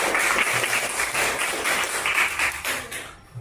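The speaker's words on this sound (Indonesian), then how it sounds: "tepuk tangan untuk Cinta" Classroom applause for a student, a short burst of many hands clapping at close range that fades out after a few seconds.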